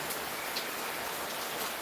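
Heavy rain falls in a continuous, even hiss of drops pattering on surfaces. The sound is soft and steady, with no voices over it.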